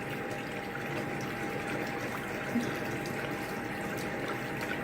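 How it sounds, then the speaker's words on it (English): Water runs steadily from a tap as a face is rinsed, a constant rushing stream with a small splash midway and no talking. "And then I rinse my face again."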